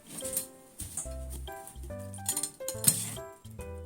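Smoothie maker jar for blending new-onion soup, handled on a kitchen counter with repeated close glassy clinks and knocks, several sharp taps in irregular rhythm, no talking.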